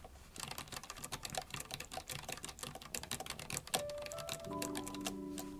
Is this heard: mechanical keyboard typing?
yes